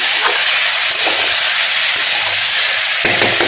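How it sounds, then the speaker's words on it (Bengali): Onions frying in a pan in a home Bengali kitchen give off a loud, steady broadband sizzle that runs throughout, with a few brief stirring scrapes. "এই পেঁয়াজ ভালো মতন ভেজে নেবো, লাল করে নেব।"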